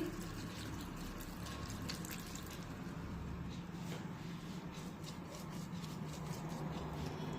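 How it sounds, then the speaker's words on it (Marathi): Water poured steadily into a pot of dill greens, a continuous close splashing and trickling stream running the whole time without talk. "आता आणखीन थोडंसं पाणी यामध्ये टाकते"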